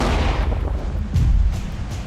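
Avalanche control gun firing explosives into a mountain snowpack: a deep, booming report with a rumbling tail, loud and heavy, set against a continuous low roar.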